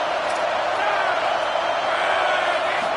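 Stadium crowd at a Kentucky college football game roars for the defense on a big third down late in the game, a loud, steady, unbroken wall of cheering that sounds close and fills the whole stretch.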